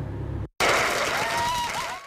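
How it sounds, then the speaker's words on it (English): After a brief silence, a room erupts into loud, sustained clapping and cheering at a school board meeting, with a few whoops rising above the steady applause. "The clapping and cheering lasted a solid 15 seconds."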